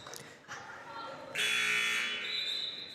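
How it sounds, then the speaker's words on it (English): A loud, sustained electronic buzzer sounds in a gym to signal a player substitution at a Minnesota high school girls' basketball game. It cuts in abruptly and holds steady over faint background voices and court noise. "Buzzer to signal that Neva Kokish is being subbed into the game for Eliana Koenig."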